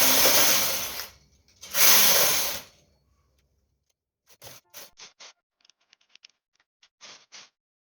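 A knitting machine carriage sweeps across two rows of a lace crop top in two loud, close whooshing passes, then falls into scattered light mechanical clicks and ticks.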